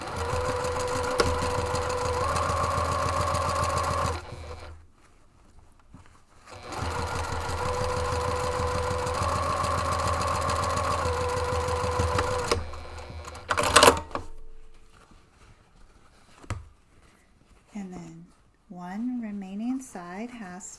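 A sewing machine runs in two long, steady stitching passes along a fabric seam, its fast rhythmic whirr loud and close, with pauses and a voice talking near the end.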